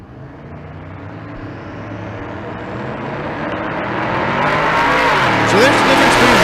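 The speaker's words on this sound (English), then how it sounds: "Twin turbo LS in the right lane. Naturally aspirated big block Chevrolet in the left lane." A drag race between a twin-turbo LS car and a naturally aspirated big-block Chevrolet at Bandimere: engines roar louder and louder as the cars approach, ending with a brief tire squeal, with a voice talking over the noise.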